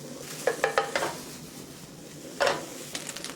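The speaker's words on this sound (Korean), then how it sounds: "자작자작하게 이렇게 기름이 나오죠, 베이컨은." Bacon frying in a pan without oil or butter gives off a soft, steady sizzle. Two bursts of scraping and stirring clatter are heard close by, and no one speaks.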